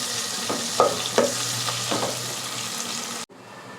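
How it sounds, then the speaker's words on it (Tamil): Radish and onions sauté in hot oil for sambar, a steady close sizzle broken by a few sharp spatula scrapes and taps before the sound cuts off abruptly. "இந்த முள்ளங்கியை வந்து இந்த வெங்காயத்தோடு சேர்த்து கொஞ்சம் வதக்கி விட்டுக்கலாம் ஃப்ரெண்ட்ஸ்"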